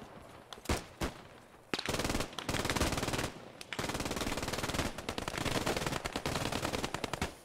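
Bursts of automatic gunfire from a WWII shooter, Post Scriptum, with a K98k rifle among the weapons: a couple of sharp early shots, then long sustained rattling volleys that run loud and dense to the end.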